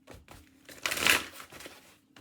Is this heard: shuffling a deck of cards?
yes